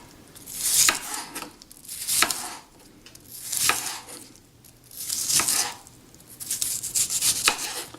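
A knife slicing a sweet onion into slivers on a cutting board, several separate bursts of crisp cutting strokes with short pauses between them, close and fairly clear, no talking.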